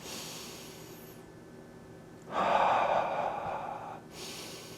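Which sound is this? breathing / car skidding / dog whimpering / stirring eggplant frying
breathing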